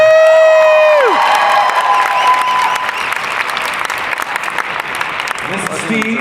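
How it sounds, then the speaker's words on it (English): An audience breaks into loud applause and cheering right after a musical tone fades, the clapping swelling quickly and then continuing as a dense, steady patter with scattered whoops. "How about a big round of applause for Rob Pryor?"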